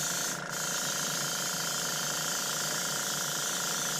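An airbrush sprays a shadow coat onto a Tamiya 1/16 RC M551 Sheridan model tank, a steady close airy hiss that runs continuously with only a brief dip near the start.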